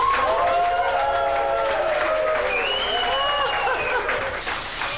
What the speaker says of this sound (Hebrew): בואו נקבל לכאן במחיאות כפיים את האחת והיחידה, את אומלטה